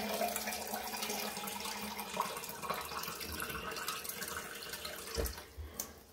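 Warm tap water pours steadily into a stained coffee pot during cleaning, a continuous close splashing and gurgling stream with a few brief clinks near the end.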